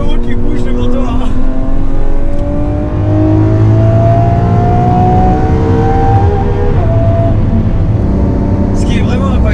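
A Lamborghini Aventador SVJ with a newly fitted exhaust line revs loudly and steadily close by, its engine note rising in pitch before settling, with voices talking over it.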